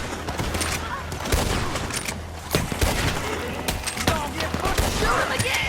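A chaotic gunfight against O'Driscoll gang members in Red Dead Redemption 2, with rapid overlapping shots from several guns cracking close and loud while voices shout over the fire.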